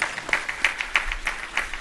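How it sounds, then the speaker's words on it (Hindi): Audience applause at a yoga gathering, a small sparse clapping with distinct claps in an uneven rhythm, fairly faint. "एक बार जोरदार तालियां"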